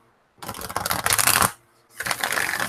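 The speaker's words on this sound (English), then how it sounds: "One more shuffle." Oracle cards are shuffled by hand in two close, crisp bursts of riffling and sliding, about a second each, separated by a short pause.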